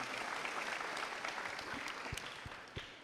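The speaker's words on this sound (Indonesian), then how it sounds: "Tepuk tangan untuk kita semua." An audience of university students claps together at a political talk, a dense, sustained round of applause that gradually thins toward the end, with a few louder individual claps.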